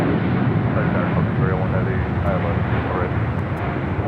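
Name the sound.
American Airlines airplane taking off at LAX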